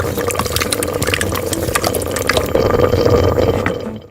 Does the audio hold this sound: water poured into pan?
yes